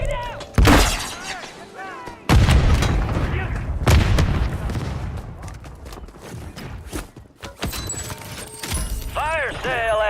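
Gunfire in a shooter video game, with sharp loud shots, booms and shattering impacts in bursts, mixed with chirpy game sound effects and voices talking throughout.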